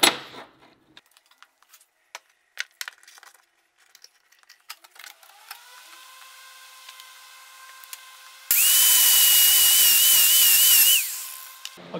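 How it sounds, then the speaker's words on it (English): A flap disc grinds a knife blade in a small shop, with scattered taps and a quieter whine before a loud, steady high-pitched grinding burst of a few seconds that then cuts off. "we're just going to grind away"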